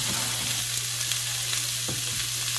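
Steak warms briefly in a hot pan, giving a loud, dense, continuous sizzle with a faint stirring scrape, close up and steady, with no one talking.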